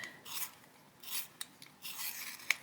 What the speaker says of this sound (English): Just give this sharpen.